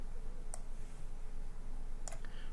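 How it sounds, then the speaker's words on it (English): Two crisp computer mouse clicks on a File menu in horse racing software, spaced apart, sharp and close over a faint steady background hum. "click on File"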